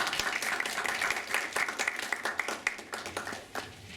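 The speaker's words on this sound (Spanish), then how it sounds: "Un fuerte aplauso, por favor." An audience at a Peruvian political lecture claps in steady, dense applause that thins out toward the end, moderately distant and without voices over it.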